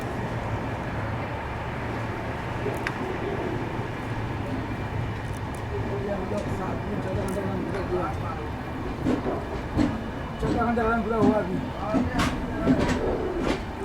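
Sampark Kranti superfast express train pulling out of a station with a WDM 3D diesel locomotive, a low rumble and growing clatter of wheels over rail joints, moderately distant, with people talking nearby.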